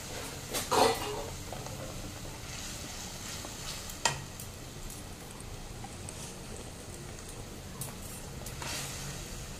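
Spice paste frying and being stirred in a pan for Bengali milk chicken polao, a steady low sizzle with a few sharp scraping clinks of the spatula near the start and middle, close and fairly quiet.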